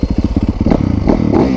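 A motorcycle engine close by, chugging at idle in an even pulse and then revving up into a louder, rougher roar.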